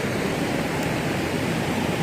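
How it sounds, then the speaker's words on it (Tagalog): Steady rushing water noise of a river after a flood, broadband and constant, flowing nearby with no pauses or voices. "ito yung ilog sa amin"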